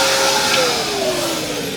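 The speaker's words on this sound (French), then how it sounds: "je passe l'aspirateur dans la voiture" A vacuum cleaner runs steadily inside a car, cleaning up crumbs, with a continuous loud broadband whine whose pitch drifts slightly downward and never stops.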